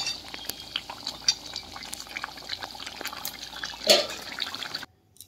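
Chicken pieces coated in dry ground spices, including cinnamon, are stirred in a pan over low gas for chicken dopiaza, giving a steady sizzle with light utensil scrapes and one louder clatter near the end before a sudden stop.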